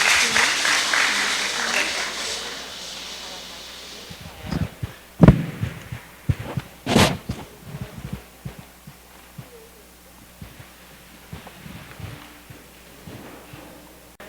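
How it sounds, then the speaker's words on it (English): Audience applause at an emancipation gala in a creative arts centre, a broad wash of clapping that fades out over the first few seconds, followed by scattered thumps and a voice talking. "let's give them a round of applause and show them some love"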